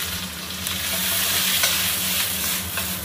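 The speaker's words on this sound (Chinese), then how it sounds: "爆香以后呢我们下入这个蘑菇和青椒" Mushrooms and green peppers hit a hot oiled wok after ginger and garlic and are stir-fried, giving a loud, steady sizzle with stirring scrapes throughout and a low hum beneath.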